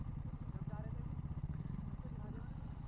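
A KTM Duke 200 motorcycle engine hums steadily while riding, a low droning rumble heard under a rider's voice on the road.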